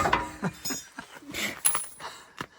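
A small wrench turning on a bolt of a farm planter, a close series of short metallic clinks, ratchety clicks and taps at an uneven pace, with brief background sounds between them.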